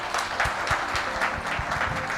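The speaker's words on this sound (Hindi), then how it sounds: "मैं चाहता हूँ हमारे मैनेजमेंट के लिए जोरदार तालियां" An audience gives loud, enthusiastic applause for company management during a business podcast session, with dense clapping throughout and individual claps standing out close by.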